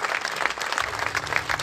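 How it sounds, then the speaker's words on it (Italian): Audience applause at a basketball charity event, a steady wash of many hands clapping that carries through the whole short stretch, fairly close and full, with no voices rising above it. "Io farei un applauso"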